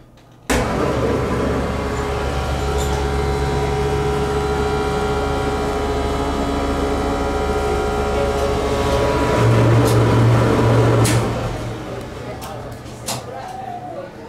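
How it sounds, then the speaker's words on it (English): A 1982 ESCO hydraulic elevator's dry power pump unit switches on abruptly and runs with a loud, steady motor hum and whine, then winds down near the end, followed by a few sharp clicks. "we're gonna take a good look at a dry power pump unit of an ESCO hydraulic elevator from 1982."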